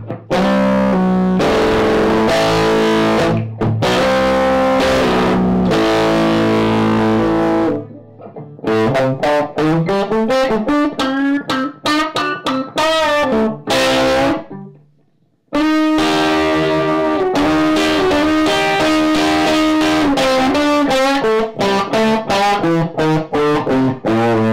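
Heavily overdriven electric guitar through a Fulltone GT-500 FET distortion boost pedal plays bluesy chords and runs, loud and sustained, pausing briefly twice before resuming with thick, saturated distortion.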